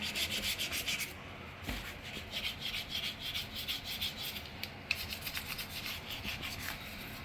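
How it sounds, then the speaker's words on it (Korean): A toothbrush scrubbing a bathroom sink, giving steady rhythmic back-and-forth brushing strokes, close and fairly loud, with a brief pause near the start. "요거는 이제 칫솔을 이용해서 구석구석"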